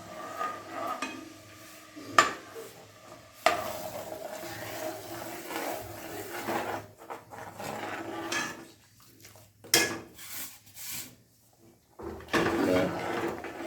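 Broken rice rava with cardamom powder being stirred in a pressure cooker pot for Thiruvathirai kali: intermittent scraping and clinking of a spoon against metal, with a few sharp knocks and quieter gaps between them.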